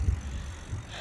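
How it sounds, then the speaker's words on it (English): Bicycle ridden fast outdoors, with steady rolling rumble and wind buffeting a close microphone throughout, no talking. "Yo, this bike's moving, man."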